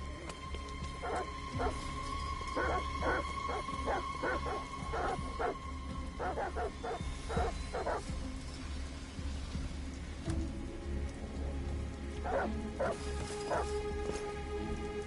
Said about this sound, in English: Goddamn dogs. What the fuck are they barking at?